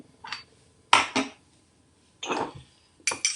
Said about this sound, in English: We're going to pop into the bowl 2 large dessert spoons of my oatmeal